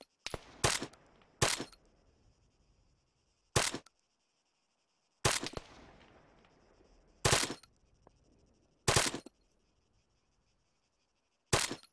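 Gunshots ring out in the video game Arma 3, sharp, loud single cracks spaced a second or two apart, about eight in all, each followed by a short echoing tail, close and alone with no talk.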